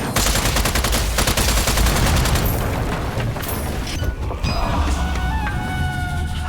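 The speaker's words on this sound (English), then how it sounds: "Guess I'll just have to shoot them in the face." Sustained gunfire against spear-wielding armored enemies in the video game Strange Brigade, a loud dense barrage of rapid shots running throughout with booming impacts and brief tonal game effects near the end.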